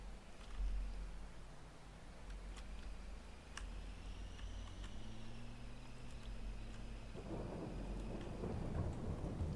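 Rain falls steadily in the Farming Simulator 22 video game while low thunder rumbles, with a loud roll early on and another swelling near the end, with no voices.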